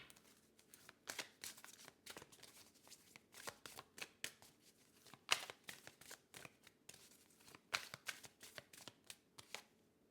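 Oracle cards are shuffled close up, a quiet run of rapid papery riffles and taps in irregular bursts with no talking.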